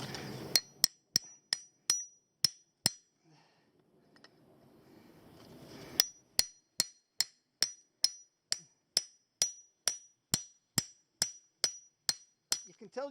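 Hammer whacking a rock to break it open, sharp close metallic strikes in two rhythmic runs of evenly spaced blows, separated by a short quiet gap with faint rustling.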